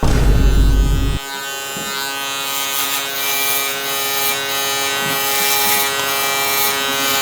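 An electric shaver buzzes steadily against hair during a high taper haircut, a close, continuous whine that shifts slightly as it moves over the head, after a louder burst of noise at the start.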